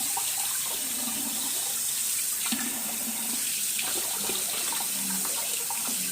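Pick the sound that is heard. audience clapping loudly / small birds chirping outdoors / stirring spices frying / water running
water running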